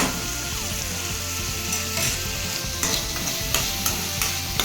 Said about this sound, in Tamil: தக்காளி போட்டு நல்லா வதக்கிக்கோங்க